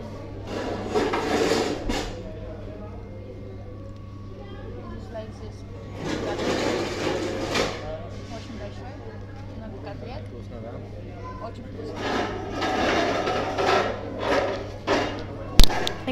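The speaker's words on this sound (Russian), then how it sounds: "Здесь народ шумит." Crowd din inside a busy McDonald's restaurant in Meerut, India: waves of chatter and clatter swell and fade over a constant low electrical hum, with a sharp knock near the end.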